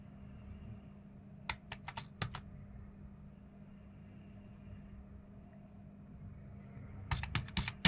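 Short bursts of typing on a computer keyboard while writing Python code, clusters of crisp key clicks near the start and end separated by a quiet stretch, over a low steady hum with no talk.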